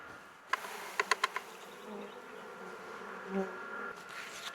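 A few sharp taps, then a soft, steady buzz of honeybees from a laying-worker colony, shaken off a frame outside the hive, drones quietly throughout, rising slightly near the middle.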